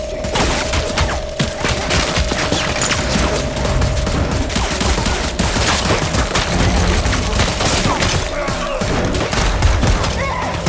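Dense, loud gunfire fills a violent action scene from The Boys season 5, with rapid overlapping shots and impacts hitting walls in an unbroken barrage under a low steady hum, without pause throughout.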